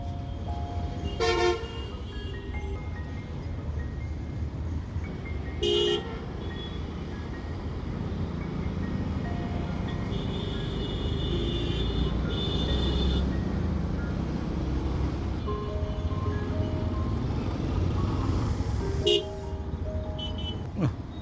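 Busy road traffic in Badda, Dhaka, a constant engine rumble with several loud car and vehicle horn toots scattered throughout, close by.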